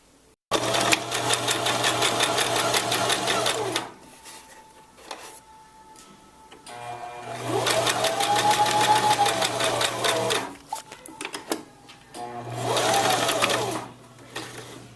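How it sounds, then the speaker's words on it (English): A sewing machine runs a straight stitch seam in three steady mechanical bursts of rapid needle ticking, separated by short pauses with quieter clicks as the fabric is adjusted, close up and with no voice. "I'm going to sew a straight stitch and make sure to back stitch at the beginning and at the end"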